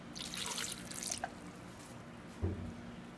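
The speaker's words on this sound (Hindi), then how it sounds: "और इसमें थोड़ा सा पानी" Water splashes and trickles briefly into a blender holding soaked apricots, a close, soft pour that fades. A single dull knock follows after a quiet pause.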